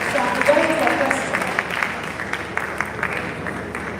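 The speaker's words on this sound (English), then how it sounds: "Please, a round of applause for Mrs. Abosek." Audience clapping for someone speaker at the end of her talk at a professional development session in Ibadan, Oyo State, moderate and scattered, mixed with crowd murmur and a voice speaking over it.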